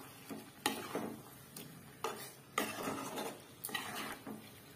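A spoon stirs egg curry in a pan, giving several distinct scraping knocks at an irregular pace, close and fairly quiet, with no talking.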